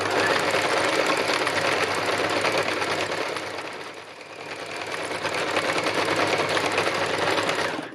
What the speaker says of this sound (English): I'm just going to do a little bit of top stitching here